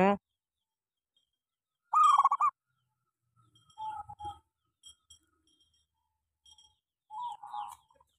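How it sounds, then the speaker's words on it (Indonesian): A sick local zebra dove (perkutut) with a worm infestation cooing in short, scattered bursts with long silences between, fairly close and clear, with a brief voice at the start. "perkutut gering manggung ring"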